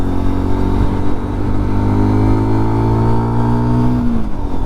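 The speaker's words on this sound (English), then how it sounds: "I think this bike prefers its original exhaust" Close and loud, a Lexmoto LXR 125 with its stock exhaust hums in a smooth, steady single-cylinder tone, pitch creeping upward as it revs before cutting back sharply toward the end.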